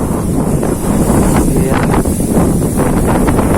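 Strong wind buffets the microphone on a bridge during an afternoon mullet-fishing session, making a steady, loud roar with gusty swells throughout. A voice briefly speaks once.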